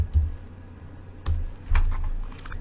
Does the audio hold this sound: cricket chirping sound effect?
no